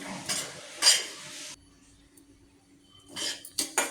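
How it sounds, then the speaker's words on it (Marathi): A spoon scrapes and clinks in a pan of semolina (rava) being dry-roasted for upma. The stirring comes in short, close bursts with a gap between them. "हे पहा रवा अजून भाजतो आहे"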